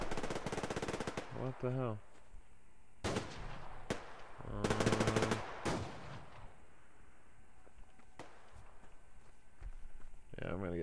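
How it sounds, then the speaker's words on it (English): Gunfire in the Survarium shooter game: several bursts of automatic fire in separate volleys, some loud and close, others farther off, with someone talking and exclaiming between them. "there's definitely some shooting going on over here"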